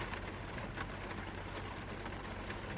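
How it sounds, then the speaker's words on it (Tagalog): Heavy rain pours in a steady, dense roar that fills the whole moment, with no voices over it. "Lakas ang ulan. Naririnig niyo ba?"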